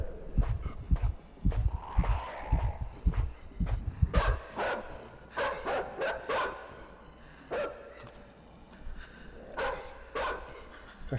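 A dog in the video game Inside barks repeatedly, a series of sharp, fairly close barks in an irregular rhythm, following thudding footsteps and breathing at the start, with no talk over them.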